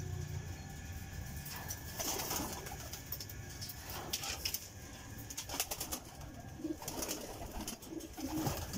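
Racing pigeons at a derby coo steadily in the foreground, low throaty calls repeating amid faint wing flutters and outdoor ambience, with no talking.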